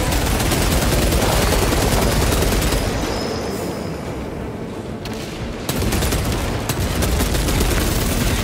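Rapid gunfire from Warhammer 40K Space Marine 2 fills the whole stretch, with loud, dense bursts and volleys that thin briefly in the middle before surging back.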